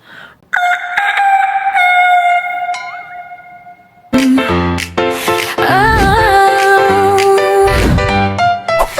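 A woman imitates a rooster crowing. A loud, drawn-out crow rings out with echo, then a second, busier burst of crowing layered with effects fills the rest.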